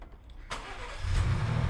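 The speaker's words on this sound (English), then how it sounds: "I'm going to start the car now." A car engine cranks and catches outdoors in the dark, a sudden broadband start followed by a steady low idle rumble that grows slightly louder, close to the microphone.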